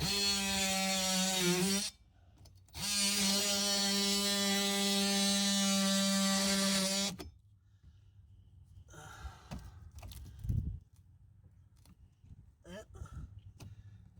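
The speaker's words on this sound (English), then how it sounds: "we're going to use this brand new 20-volt DeWalt oscillating saw to cut those wells out" A brand new 20-volt DeWalt oscillating saw cuts out wells in a boat during a transom replacement, its loud, high-pitched buzz running in two long bursts before stopping, followed by quieter scraping and handling noises.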